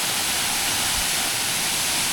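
Steady broadband roar of a waterfall on a Khao Tin Kai trail in Nakhon Nayok, heard close and continuous like heavy rushing water with no voices over it.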